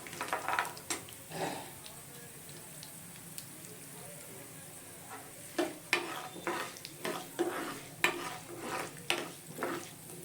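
Ingredients fry in hot oil for South Indian lemon rice, a continuous sizzle with scattered stirring clinks and scrapes close by, heard with no talking over it.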